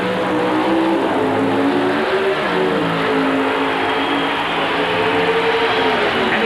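Wedge-motor Dodge drag racing car at an NHRA drag race, a loud sustained engine roar with rising pitch as it accelerates down the strip, filling the whole span with no talk.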